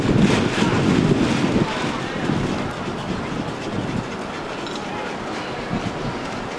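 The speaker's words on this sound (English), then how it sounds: "There's the bridge by my house, the train goes by." A train rumbles across a bridge in Prague, loudest at first and then easing into a lower rolling drone, mixed with heavy wind buffeting the microphone.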